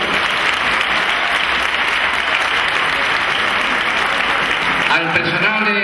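A banquet crowd at a 2009 tribute lunch for the elderly in Churriana gives sustained, dense, loud applause, with a voice starting to speak over it at the very end.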